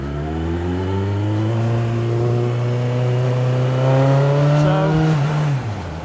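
A car engine passes on a narrow country lane, its tone rising and holding as it draws near and loud, then dropping off abruptly as it goes by; no voices.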